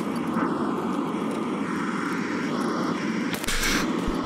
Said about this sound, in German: Ich höre auch nichts wegen dem scheiß Flugzeug